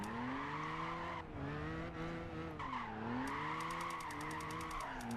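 A Toyota Tacoma drifting in Gran Turismo 5 gives long wavering tire squeals over a loud engine drone, the pitch bending as the wheels slide, continuous with no talking.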